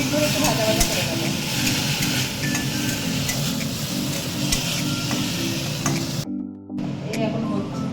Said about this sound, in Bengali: মুগ ডালটা একটু ভাজা ভাজা করে দিতে হবে, 5 মিনিট একটু ভাজা ভাজা করে নিই